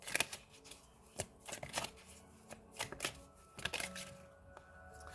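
Tarot cards being shuffled by hand: a string of crisp riffling and slapping bursts at an uneven rhythm, close and fairly quiet, with no talking over it.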